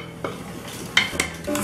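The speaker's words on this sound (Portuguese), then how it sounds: "Dou uma mexidinha" Spoon stirring seasoning into chicken in a cooking pot, soft scraping and a few clinks against the pot over a faint sizzle, close and quiet.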